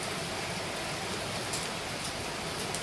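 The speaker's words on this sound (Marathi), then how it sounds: "पुन्हा पावसाला सुरुवात झाली आहे जोरदार पावसाला सुरुवात झाली आहे" Heavy monsoon rain pours steadily in a dense, even hiss during village flooding, with a few louder drops striking a nearby surface.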